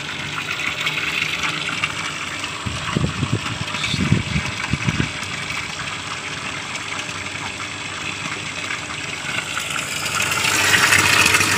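A water pump in a hydroponic lettuce setup runs with a steady gushing, churning noise, sending water up into small hoses, with a few low thumps and the flow growing louder toward the end.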